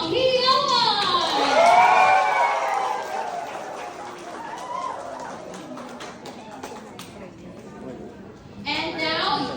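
Guests at a 25th wedding anniversary celebration cheer, shout and applaud as the couple makes their entrance, a loud, steady crowd roar with a host's amplified voice carrying over it.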